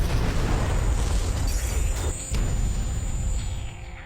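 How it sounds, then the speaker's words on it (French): A loud, sustained explosive roar in a film scene, with heavy low rumble and crackling debris, fading slightly toward the end. "l'explosion projette Jenny au sol"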